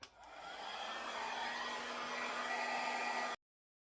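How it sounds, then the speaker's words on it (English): A hair dryer blows hair steadily at close range, its broadband whoosh with a faint motor hum starting abruptly and holding constant for about three seconds before cutting off, with no talking. "So let me go ahead and blow this out."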